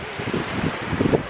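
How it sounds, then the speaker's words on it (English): Brief gusty wind buffeting the microphone on a beach, a low rumbling rush with no voices. "it's a bit windy."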